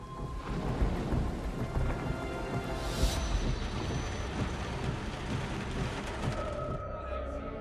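A thunderstorm lashes a city with heavy rain, dense hiss of downpour and deep rolling thunder throughout, loud and enveloping, with a sharp crack near the middle.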